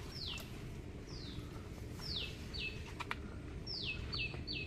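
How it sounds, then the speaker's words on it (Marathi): Birds chirp outdoors on a trek at Takmak Fort, with repeated short descending whistles at intervals, fairly faint over a steady low background rumble. "पक्ष्यांचा आवाज आहे का"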